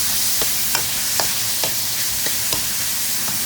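Steady sizzling of meat frying in a pan, with light regular scraping taps as it is stirred.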